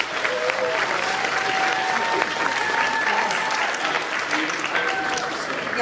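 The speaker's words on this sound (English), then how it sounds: "Round of applause, please, for Kristin." Applause from a convention panel audience in New Jersey, a dense, sustained wash of clapping that stays loud and even throughout, with a few scattered cheers and whistles riding on top.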